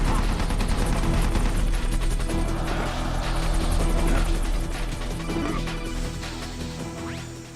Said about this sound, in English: It's an enemy gunship. Single burst from its machine gun can cut a man in half.